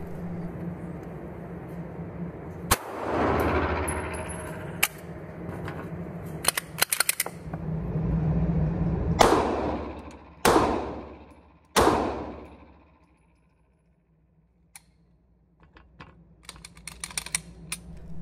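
Glock 19x pistol firing with a Promag drum magazine, several sharp separate shots spread out irregularly among mechanical clatter and handling noise, outdoors and fairly close.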